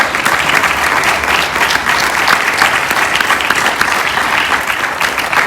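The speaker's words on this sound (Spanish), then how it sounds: "Dele fuerte las palmas a él." A church congregation applauds loudly and steadily during a sermon, a thick continuous roar of many hands clapping with no voices on top.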